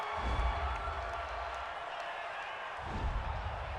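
A home stadium crowd at a Green Bay Packers vs. Minnesota Vikings football game cheers a referee's penalty call, a broad roar that stays loud throughout and surges again toward the end.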